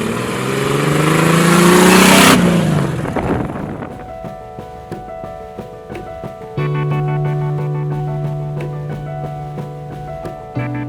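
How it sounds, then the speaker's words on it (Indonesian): Engine of a Morgan Plus Four replica car with enlarged pistons, revving hard to a loud peak then dropping off, leaving a fluctuating idle with tonal hum and wind buffeting on the microphone. "Jadi ketika dipakai jalan, di blayer istilahnya, itu seperti mesin V."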